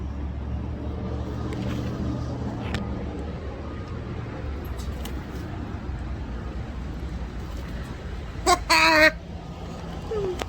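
A chicken-like wild fowl in Texas gives one short, sharp call, briefly rising above a constant low rumble of background noise.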